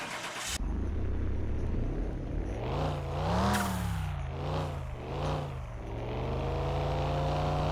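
A car engine cranks and catches, then idles before being revved in several rising and falling bursts, loud and close.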